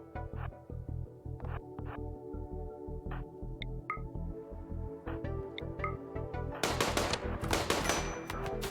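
Gunfire from the RimWorld video game as a slave is shot, with repeated short rhythmic bursts of shots over a low game hum and a denser, louder barrage near the end.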